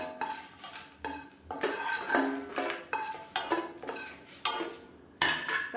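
Dried Kashmiri red chillies roast in oil in a pan, heard as loud, repeated bursts of metal scraping and clattering as a spatula stirs them. Each stroke is close, with short pauses between strokes.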